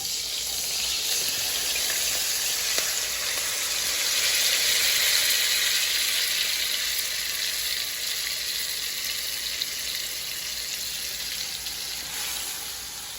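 Washed rice sizzling in a hot pan with melted fat for yellow rice, a steady, loud hiss and crackle close up throughout, with a few faint clinks and no voices.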